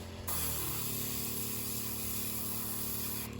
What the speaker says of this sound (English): Alright, let's do a quick test spray.